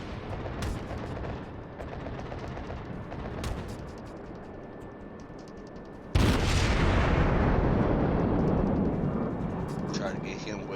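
Heavy cruiser Aoba's naval guns fire in World of Warships, a sudden loud booming salvo that bursts in midway and rumbles on with a long decaying roar, after quieter distant battle noise and someone talking.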